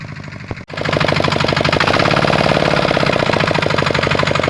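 Vehicle engine running loud and close, a brief dip and then steady, harsh revving as the driver gives it more gas, with no talking.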